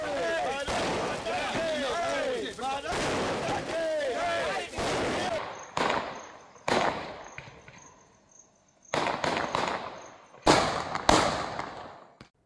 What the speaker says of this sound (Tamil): தமிழ்நாட்டில் சிவகாசி உள்ளிட்ட இடங்களிலும் பட்டாசு முழக்கங்கள் மகிழ்ச்சியை